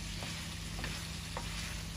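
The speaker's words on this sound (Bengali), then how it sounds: "এই যে বন্ধুরা, আপনারাও এইভাবে ব্রয়লার মুরগা ভাজি" Broiler chicken leg pieces frying in a pan with spices, a steady close sizzle with a few soft stirring taps over a low hum, no voices.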